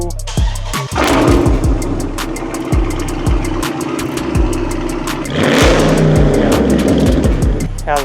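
A Dodge Charger 392 V8 with an upgraded exhaust starts for the first time, cranking and then catching into a loud, deep rumbling idle with a surge of revs, heard close up.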